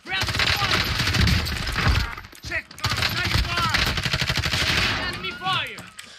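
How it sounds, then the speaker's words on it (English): Rapid automatic gunfire from Call of Duty Warzone, loud and close, in dense bursts nearly filling the moment with a short break in the middle, with a person talking over parts of it. "I shot him in the head too."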